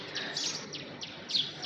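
Crows and other birds being fed biscuits give several short, high chirps and calls, moderately close, over a quiet background.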